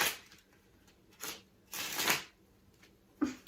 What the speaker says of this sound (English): that's how we shuffle. How do you shuffle?